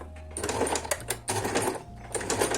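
A sewing machine stitches a concealed zipper onto trousers, running in quick continuous bursts of rapid needle clatter with brief pauses, close up and loud.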